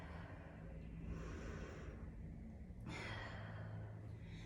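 A long, slow exhaled breath during a yoga session, a soft airy rush held steady for several seconds, close and quiet.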